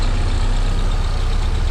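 A VW MK3 Golf engine, fitted with a bypass, runs steadily with a loud, dense low rumble throughout, close by and with no voices.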